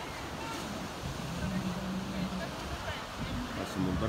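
Sea waves breaking on the shore at Benidorm, Spain, a steady low wash of surf mixed with wind buffeting the microphone, moderately faint and continuous, with no clear voices.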